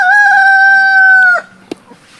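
A rooster crows once, loud and close, in a single long sustained call, followed by a brief cluck or scratching sound in the quiet that follows at a backyard spot where chickens scratch at sacks of manure and leaves.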